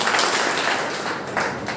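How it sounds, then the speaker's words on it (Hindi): Seminar audience clapping together on cue, a dense burst of applause that stays loud across the short stretch, with no talking heard. "एक बार ताली बजाओ"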